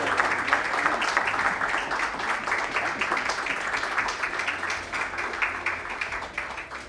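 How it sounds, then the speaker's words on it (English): Audience applause at an award ceremony: a dense, steady wash of clapping from a crowd that holds at an even level throughout, with faint murmuring beneath. "Please give a round of applause, everyone."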